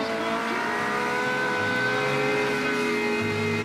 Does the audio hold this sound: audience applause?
no